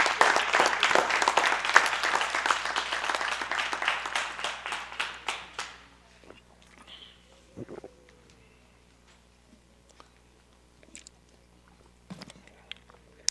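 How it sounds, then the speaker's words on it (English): A congregation at a worship service bursts into dense hand clapping that fades out after about six seconds, leaving a quiet room with a few scattered claps and small noises. "Give Mr. Who a hand clap."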